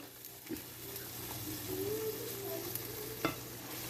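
Vegetables being stirred in a hot pan for a from-scratch chicken fricassee, a steady sizzle and fry under scraping spoon strokes, with a couple of sharper knocks against the pan, close and moderately loud, no talking.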